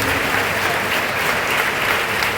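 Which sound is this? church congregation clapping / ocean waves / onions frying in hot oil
church congregation clapping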